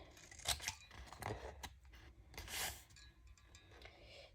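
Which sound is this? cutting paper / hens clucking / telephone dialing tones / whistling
cutting paper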